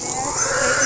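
A fattening pig grunts loudly and continuously while being loaded into a heavy steel crate, a close, harsh, noisy sound filling the whole moment.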